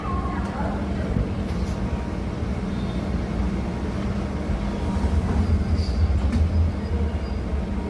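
Local train at Thiruvottiyur railway station, a loud continuous low rumble and rattle of the carriages holding steady and swelling slightly toward the end.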